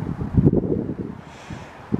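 Low, gusty coastal wind in Portugal buffeting a nearby phone microphone in uneven rumbling bursts, heaviest early on, easing, then one more gust at the end.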